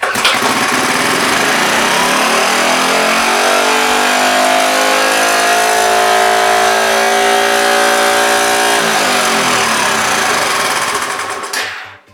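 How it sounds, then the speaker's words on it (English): A Honda ATC70 small single-cylinder engine runs with no throttle control, a loud, steady, buzzing idle-to-rev drone that shifts pitch before cutting out abruptly at the end. "it started, but I had no throttle control and the kill switch wouldn't kill it"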